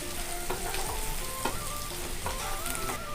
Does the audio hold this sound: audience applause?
no